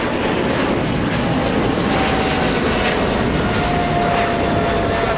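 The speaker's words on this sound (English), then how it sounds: "Big 777 flying to Brussels, departing" A Boeing 777 airliner bound for Brussels roars loudly as it departs from Los Angeles International Airport, its jet engine noise steady and close throughout.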